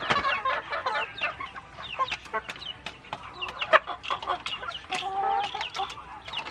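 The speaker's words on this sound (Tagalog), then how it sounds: "Ayan, nagpapatuka siya ng mga manok" Chickens being fed cluck and squawk close by in a busy, overlapping flurry of short calls, with an occasional louder squawk standing out.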